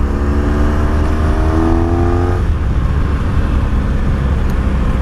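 A 1983 Honda Sabre V45 VF750S motorcycle rumbles loud and close while riding, with a steady low engine drone and a rising then settling pitch as it pulls, plus wind noise, no talk.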